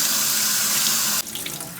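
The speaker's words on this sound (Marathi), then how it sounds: "हा पास्ता आपल्याला थंड पाण्याने धुवून घ्यायचा आहे." Cold tap water runs steadily and loudly over cooked pasta in a sink, a constant close rush that shifts in tone partway through as the stream hits the pasta.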